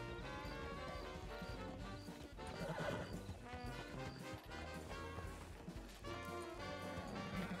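A horse whinnies and its hooves clip-clop amid busy background sound, with no talking.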